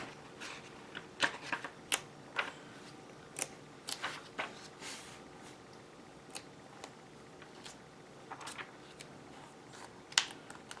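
Pages of a Hobby Japan magazine flipped quickly, giving a close, steady run of sharp papery flicks and rustles at an uneven pace, with no talking.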